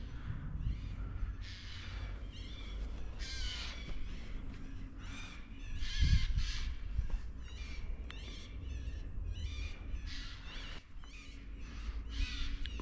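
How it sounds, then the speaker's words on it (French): A bird on the ground in the Swiss Jura gives a series of harsh, crow-like calls, repeated croaks and squawks at close range over a quiet outdoor background. "Il y a un oiseau par terre qui fait du bruit."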